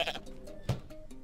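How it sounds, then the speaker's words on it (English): Goat in Goat Simulator letting out a short bleat, close and distinct, with a few faint clicks around it. "make a goat noise"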